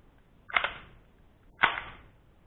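An HFC MAC10 airsoft replica fires two separate sharp shots about a second apart, each a snappy crack of the moving bolt with a brief rattling tail, close and fairly loud with quiet between.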